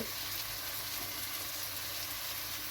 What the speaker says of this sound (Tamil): நான் இப்போது இது நல்லா வதங்க விட்டு உங்கள்கிட்ட காட்டுறேன்